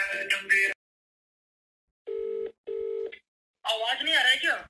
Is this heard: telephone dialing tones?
yes